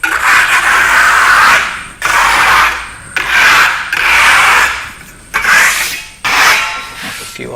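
A trowel edge scrapes bumps off a FirmoLux Piatto plaster top coat: six rasping strokes in a regular rhythm, close and loud, with brief pauses between passes.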